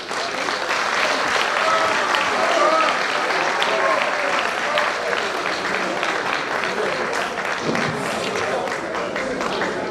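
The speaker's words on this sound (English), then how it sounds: "I expected a louder hand clap from Prof." An audience at an Urhobo/Isoko conference applauds steadily, a dense, sustained clatter of many hands clapping that carries on evenly throughout, with some voices mixed in.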